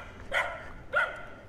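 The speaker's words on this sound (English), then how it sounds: "That's a very loud dog at the pulperia." A loud dog barks twice near a corner store in a small Nicaraguan neighborhood, two distinct sharp barks about half a second apart over quiet background.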